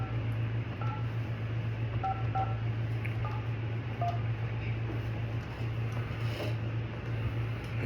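Telephone keypad tones sound in a short series of distinct DTMF beeps while calling a car buyer about a Hyundai Veloster and a 2014 Santa Fe, over a steady low hum and without talk.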